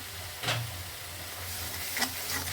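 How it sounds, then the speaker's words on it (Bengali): Spice paste with chilli powder and salt sizzles in hot oil for a gravy, a steady soft crackle with a couple of brief stirring scrapes, close and fairly quiet. "খুব ভালো করে মশলাটা কষিয়ে নিয়েছি"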